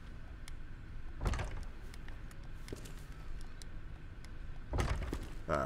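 Locked door being tried in the Resident Evil 2 demo: two short rattling thumps of the handle and frame, separated by a low ambient hum.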